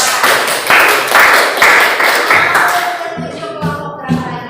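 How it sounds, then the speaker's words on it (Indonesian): Classroom audience clapping for a student group during a lesson, several loud, close bursts of hand claps and taps in an uneven rhythm that thin out and fade toward the end. "Silakan tepuk tangan untuk kelompok."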